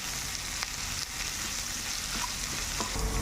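Chopped onions sizzle and fry steadily in a hot pan with salt added, a continuous crackling hiss with light stirring scrapes, no voices.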